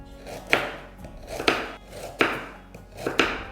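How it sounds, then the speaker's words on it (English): A knife chops lotus root into even pieces on a cutting board, four crisp, evenly spaced cuts that each land with a sharp thud and a short scrape, close and clear with no talking. "And then we're just cutting them into"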